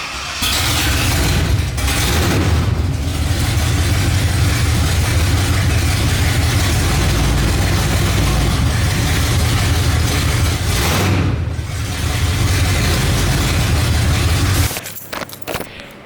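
A 454 V8 in a GMC Jimmy project truck runs steadily with a deep, loud rumble as the vehicle creeps forward under its own power, the engine note dipping briefly near the middle before cutting off abruptly at the end.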